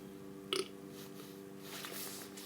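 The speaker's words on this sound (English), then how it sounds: "I apologize for burping." A man lets out a single short, close burp, a quick voiced belch lasting a fraction of a second, over a steady low electrical hum with faint rustling afterward and no talking.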